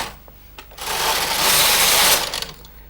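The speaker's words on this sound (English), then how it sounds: "Turn the change knob on the carriage and take the carriage across to select your needles." The carriage of a Brother KH950i knitting machine slides across the needle bed to select needles, making a close whooshing, rattling sweep that swells for about a second, preceded and followed by light clicks.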